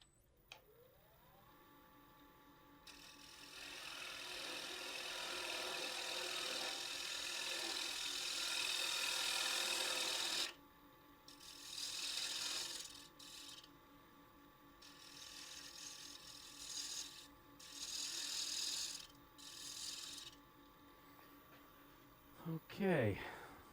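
A turning tool shears across a spinning holly lidded vessel on a wood lathe, rounding it over: a steady broadband scraping hiss for about ten seconds, then shorter bursts of cutting between pauses, with the lathe humming underneath.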